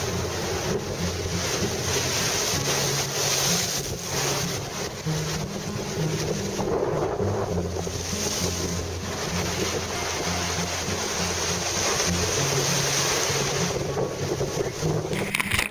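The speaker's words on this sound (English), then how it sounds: "As sheltered as it is here in the marina, there was still a lot of wave action from the Mistral that was blowing through" Strong Mistral wind buffets the microphone in a marina, with constant choppy wave action slapping against a moored sailboat, a dense steady roar with rumbling low-end gusts throughout and no talk.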